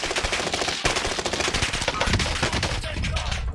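Sustained rapid automatic gunfire in the Warzone video game, a dense continuous rattle of shots close by, heard alone with no talk over it.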